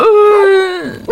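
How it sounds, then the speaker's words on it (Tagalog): A single loud, close dog howl at night, drawn out for about a second at a steady pitch before dropping off, with a brief new cry starting at the very end. "Ang ingay ng mga aso."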